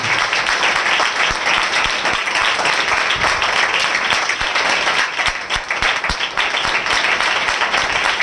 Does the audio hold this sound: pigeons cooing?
no